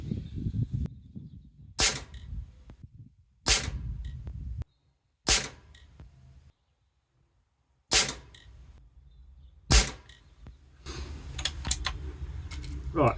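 Air Arms XTi50 field target air rifle firing a string of sharp single shots several seconds apart, each a crisp crack, over a low steady background rumble.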